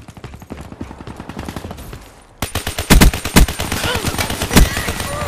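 Rapid bursts from an HD 40 firearm in Call of Duty Black Ops 3 multiplayer. A fast string of shots is followed by a brief lull, then louder, heavier strings of gunfire echo in quick succession.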